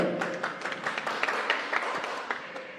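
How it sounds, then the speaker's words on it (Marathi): Applause from an audience at a press conference launching a new Marathi television series, a steady burst of many hands clapping at moderate distance with no talk over it. "टाळ्या जोरदार."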